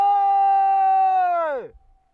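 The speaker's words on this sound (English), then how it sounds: "What an echo, huh?" A loud shouted voice echoes across mountains in Chechnya, holding a long sustained tone for about a second and a half before bending downward and fading into a faint reverberant tail.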